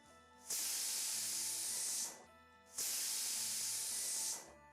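A pressure cooker vents steam in two sharp, loud hissing bursts, each lasting about a second and a half, separated by a short quiet gap.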